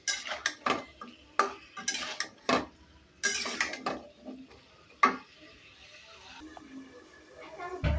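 A pot of fish curry with potato and vegetable stems in a village kitchen is handled and covered with a lid, giving a series of close, sharp metallic clanks and utensil clinks with quieter gaps between.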